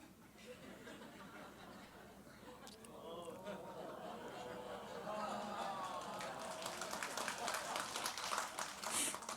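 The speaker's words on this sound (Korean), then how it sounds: "오죽하면 박수가 나오냐" A church testimony gathering crowd breaks into scattered clapping that builds toward the end, mixed with murmuring, chuckles and people talking, fairly faint overall.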